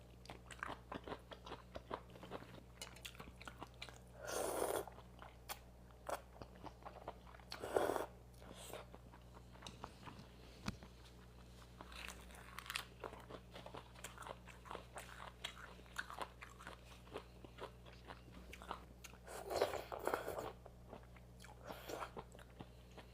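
Someone eats a Thai pounded rice-noodle salad with cooked shrimp, with faint soft chewing throughout and three louder, separate crunchy bites spaced apart, close and quiet, with no talking.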